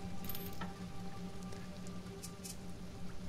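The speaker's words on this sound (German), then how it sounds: "Es regnet einfach immer noch." Soft, continuous rainfall from the video game Sheltered patters under quiet background music, with a few brief clicks scattered throughout.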